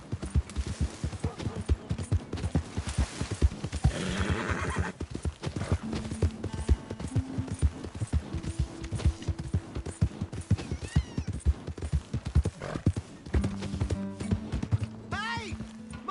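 Horse hooves clopping steadily close by with several whinnying neighs, one rising cry near the end, alongside people talking in a Western scene.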